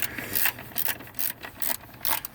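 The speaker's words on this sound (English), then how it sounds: "Here is the little ratchet I'm going to use, and we got the right direction set" A small hand ratchet turns to loosen a bolt on fuel injectors, giving a series of short, close, dry clicking bursts in an uneven rhythm, with no talking over them.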